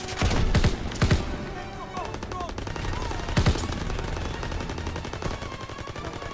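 Dense gunfire and a grenade blast in Call of Duty WWII, loud continuous rattling shots with heavy booming thumps near the start, the clatter of the firefight sustained throughout under occasional voices.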